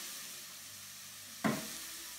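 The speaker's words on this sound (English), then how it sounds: "this is now sweating down nicely. Good hot heat. You want to hear that sizzle." Peppers and red onions frying in a hot pan, a sudden loud sizzle bursting in about halfway through after quiet hiss, then settling into a steady crackle.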